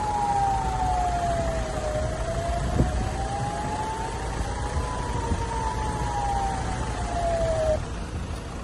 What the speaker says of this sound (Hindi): इसराइल के बड़े इलाकों में चेतावनी वाले सायरन भी सुनाई दिए हैं।